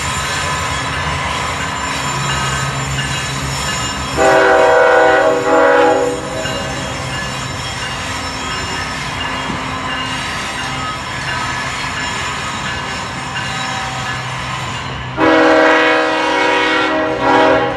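A CSX freight train rolls past at a rail junction in Hamlet, North Carolina, with a steady loud rumble of cars and wheels, and two long horn blasts sound close by partway through and again near the end.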